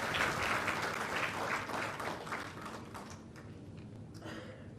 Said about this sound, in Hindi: जोरदार ताली आप सबकी तरफ से।